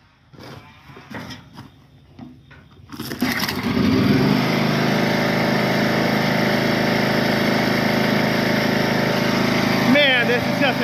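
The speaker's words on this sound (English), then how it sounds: "Man, this is just a great mower. Straight down to an idle." John Deere riding lawn mower engine running steadily and settling down toward idle, a loud continuous drone that starts after a few seconds of quieter sounds and holds to the end.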